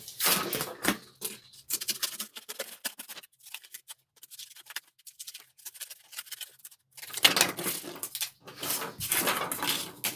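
Scissors cut out a fabric leg piece for a parade kite at a workbench, giving close, intermittent snipping and rustling in irregular bursts separated by quiet gaps.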